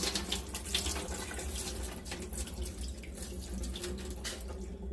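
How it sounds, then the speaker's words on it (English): Water mixed with fruit or vegetable seeds is poured into a container, a continuous splashing, trickling flow with small drips that stays fairly close and steady throughout. "I'm just going to go ahead and quickly just pour it in here"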